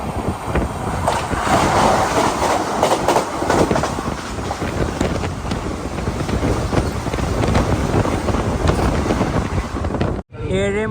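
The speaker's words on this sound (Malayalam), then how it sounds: "ട്രെയിൻ ഇതാ സൂറത്ത് റെയിൽവേ സ്റ്റേഷനിലേക്ക് എത്തിയിരിക്കുകയാണ്." Express sleeper train pulling into Surat railway station in Gujarat, a loud, continuous rumble of wheels and carriages with clickety-clack and wind buffeting, ending in a brief dropout.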